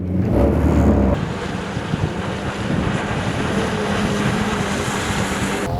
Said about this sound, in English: People can now jet ski.